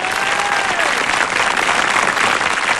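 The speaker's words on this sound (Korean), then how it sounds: "다시 한번 뜨거운 박수" An audience claps steadily in a dense, continuous burst at a one-man variety show, loud and close, with no talk over it.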